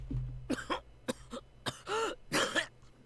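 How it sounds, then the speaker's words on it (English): The character Okita in the visual novel Hakuoki Kyoto Winds coughs and clears his throat in a series of close, rough bursts spread over a few seconds, with short pauses between fits and no other talk. "when I heard Okita begin to cough"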